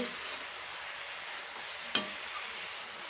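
Moringa leaves frying and being stirred in a pan for a village-style dry fry, a soft continuous sizzle with one sharp utensil scrape near the middle, steady and close with no talking.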